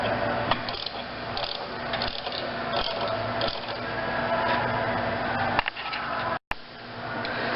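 Ratchet wrench clicking steadily as a nut is tightened to press linear bearings into a tube, close and continuous with a brief break near the end.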